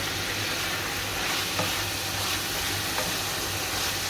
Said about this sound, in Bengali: আমি চিংড়ি মাছ ভাজতেছি খাবো বলে